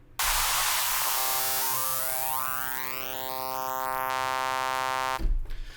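White noise from the noise generator of the Arturia DX-7 V software synthesizer, a loud steady hiss with a rising sweep of tonal harmonics layered over it, held for about five seconds before cutting off abruptly.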